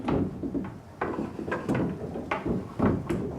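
A series of hollow wooden knocks and thuds, several in quick uneven succession, as trapdoors clap in a traditional mill while a sack is hauled upward between floors.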